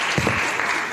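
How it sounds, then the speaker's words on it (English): Brief applause rises from an audience at a young naturalists' league debate competition, a dense patter of clapping lasting about a second. "Big applause."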